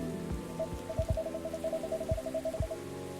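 Steady rain falls in a video game, a dense even patter with soft drops and a faint repeating tone and low thuds underneath, with no talk.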